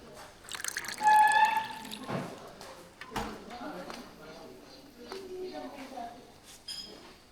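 Water is poured into mango juice at a table at a beach resort, giving a short splashing, dripping trickle. Faint chirps and quiet voices sound in the background.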